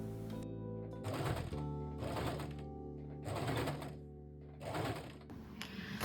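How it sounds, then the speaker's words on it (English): A sewing machine runs in short repeated bursts while top stitching the curved edge of a felt-lined qipao piece, each burst a whirring rattle of several seconds with quiet gaps between, close and fairly loud, no talking. "Then I top stitched the curved edge."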